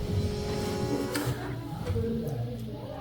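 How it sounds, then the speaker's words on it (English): A lapidary cabbing machine runs at close range with a steady motor hum and whir, carrying a few faint ticks and light contact sounds on top. "we'll go over to the lapidary machine, cabbing machine"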